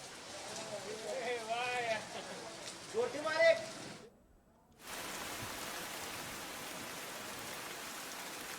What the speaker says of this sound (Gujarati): વરસાદ અત્યારે ધોધમાર વરસી રહ્યો છે